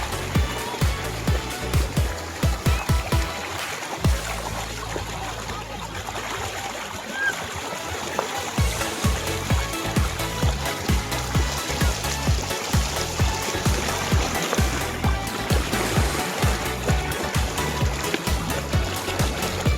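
The Pogpog River in Norzagaray, Bulacan flows continuously, with steady rushing, splashing and trickling and a few faint voices in the background.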